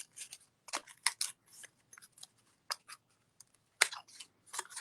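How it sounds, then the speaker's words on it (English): Small scissors make a string of quick, close snips while carefully trimming around a hand printed seed packet design, the crisp cuts coming in short irregular bursts with quiet gaps between them. "then I will just cut this little bit out as well, just being very careful."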